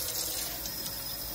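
Tap water rushes into the tank of a Bluevua countertop reverse-osmosis water filter, a steady close hiss of filling water throughout the brief moment.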